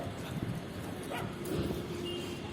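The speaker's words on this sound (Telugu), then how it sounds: "ఆడ మళ్ళీ 2 కుక్కలు ఉన్నాయి, ఒక్కటి కాదు." Two dogs bark and yip in a quick, uneven flurry, fairly close but not very loud, set against a noisy outdoor background.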